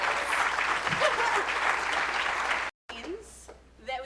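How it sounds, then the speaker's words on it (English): Audience applauding a speaker at an opening-remarks event, a dense sustained round of clapping that cuts off abruptly near the end, followed by a brief quieter stretch with a few scattered sounds. "we have to give Bob another applause"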